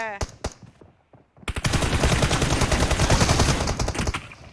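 Rapid automatic gunfire from the battle royale game PUBG, a few isolated shots at first, then a brief lull and a long, loud, dense burst of sustained firing.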